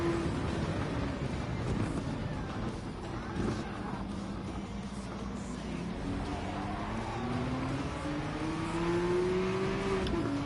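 Racing car engine in the video game Gran Turismo 7, a neo classic car slipstreaming behind a rival, with a continuous droning engine note rising and falling through gear changes under the sound of the race.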